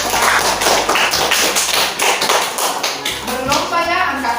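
Students in a classroom clap together in quick, rhythmic bursts that are loud and close, mixed with thumps and children's voices.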